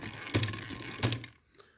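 Goodell Pratt table-top drill press adapter ratchet clicking forward in two quick mechanical steps, each a sharp metallic click-and-whir, close and alone, then quiet.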